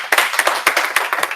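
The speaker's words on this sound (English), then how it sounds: "Can we get a round of applause?" A small tech meetup audience claps for a speaker, sparse individual hand claps in a quick, uneven rhythm that sound close and distinct rather than a dense roar.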